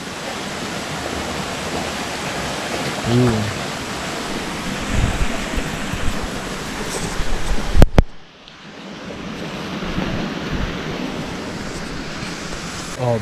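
Water flows out of a stream among rocks on a bee farm, a constant rushing wash that stays steady throughout, with a brief spoken word and a couple of sharp handling knocks.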